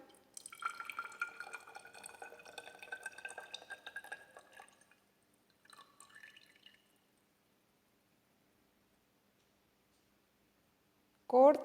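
Liquid trickles from the opened stopcock of a separatory funnel into a glass beaker during an iodine extraction, a quiet run of rapid drips and splashes that stops, returns briefly and then falls silent before a louder sound right at the end.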